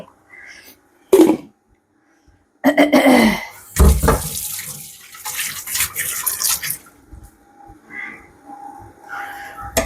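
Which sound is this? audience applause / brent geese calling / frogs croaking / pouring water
pouring water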